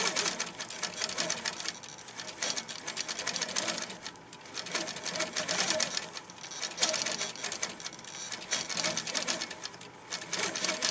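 Quilting sewing machine running steadily at medium speed while stitching a fish quilt design, a loud, continuous rapid mechanical whir and needle clatter close by, rising and dipping slightly in pace throughout.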